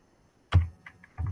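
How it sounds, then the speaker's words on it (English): Keystrokes on a computer keyboard while entering a spreadsheet formula: a sharp tap followed by a few lighter clicks, close and dry in a quiet room. "what I'm going to do is type in equals"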